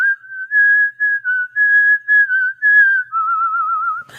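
Someone whistles a melody close and clear, a series of held notes with short breaks between phrases, ending in a wavering trill.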